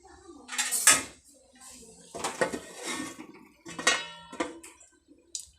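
A lid clatters onto a metal cooking pot of small fish simmering in water with onion, a few sharp clinks and knocks close by amid kitchen handling, with someone speaking between them.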